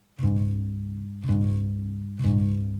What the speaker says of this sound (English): If I were to play a fifth on the lower strings, it would sound like this.